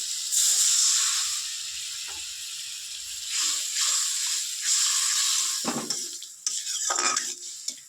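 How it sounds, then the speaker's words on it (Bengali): Water poured into a simmering tomato and spice masala for a raw banana kofta curry, a steady hissing sizzle that swells and fades, with brief clinks of a utensil against the pot. "এবার দিয়ে দেবো পরিমাণ মতো জল"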